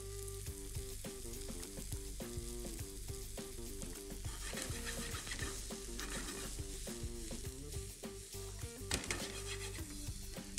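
Onion and sausages fry and caramelize in a pan with fresh oregano, a dense continuous sizzle with repeated scraping and stirring clatter of utensil against pan throughout.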